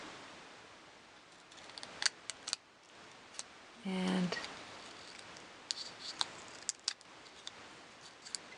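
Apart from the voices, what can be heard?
scissors cutting through stained glass eggshell pieces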